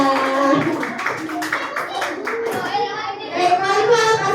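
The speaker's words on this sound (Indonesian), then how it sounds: "Tepuk tangan buat Sultan dan Linda" Children clap together in a steady patter of quick hand strikes for two classmates, Sultan and Linda, with young voices chattering over the clapping throughout.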